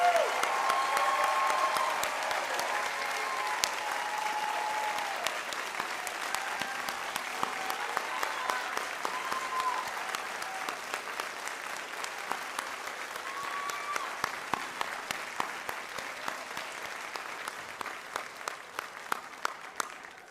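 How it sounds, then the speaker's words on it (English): Long round of audience applause for graduates at a commencement ceremony, thick at first and gradually thinning into scattered individual claps toward the end. "Let's give a big round of applause to our graduates."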